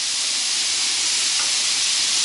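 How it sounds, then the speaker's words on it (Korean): Garlic sizzles in a pan with meat and cucumber, giving a steady, loud bright hiss that fills the clip without a break and has no talk over it. "여기다 마늘 넣어주시고"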